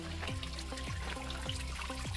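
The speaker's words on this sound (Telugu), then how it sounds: "డ్రాప్స్ మంచిగా పడుతున్నాయి" Water drips and trickles inside the Crystal Cave at Painshill Park, with several distinct drops falling at an uneven, steady rhythm over a continuous wet trickle. The drops sound close and clear, and nobody speaks.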